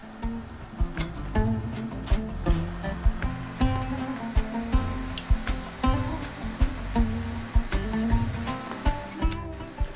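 Cordon bleu schnitzel frying in hot oil in a sauté pan gives a steady, close sizzle with crackling pops throughout, no voices.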